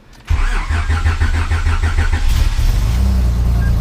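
A Honda J32 car engine, damaged from oil loss, cranks with a rapid rhythmic churn, catches, and settles into a steady loud idle close by.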